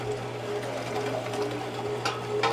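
A meat grinder with a coarse die works pork meat and fat for homemade sausage, giving a steady motor hum with faint churning and squishing, continuous and moderately close throughout.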